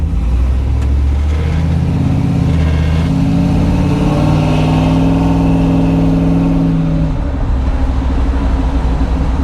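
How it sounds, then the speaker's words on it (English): A car drives by on a road, its engine hum steadily swelling, holding loud and close, then easing away as it passes, with no talking. "Whoops, car coming."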